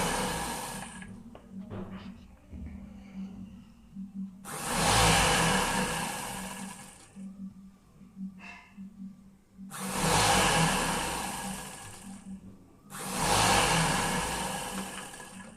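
A sewing machine runs in three loud bursts of stitching along the folded edge of suit fabric, with quieter pauses and handling noise between them.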